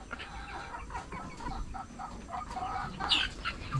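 Chickens on a small backyard farm in the Philippines, kept alongside ducks and pigeons, cluck in a quick run of short, close calls over a busy outdoor background. Some brief sharper squawks stand out near the end.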